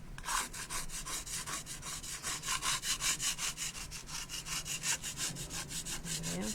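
A scraper works over dried paint on a handmade home decor piece with moulded details. Rhythmic rasping strokes repeat at a steady pace, close and fairly quiet, with no voices.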